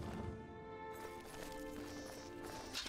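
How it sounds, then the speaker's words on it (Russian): Horse hooves clip-clop steadily in The Elder Scrolls IV: Oblivion, a faint, regular trotting rhythm over a constant game ambience and hum, with no talking. "И быстро спасаем лошадь."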